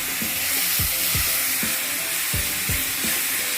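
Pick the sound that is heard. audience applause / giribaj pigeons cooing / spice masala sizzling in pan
spice masala sizzling in pan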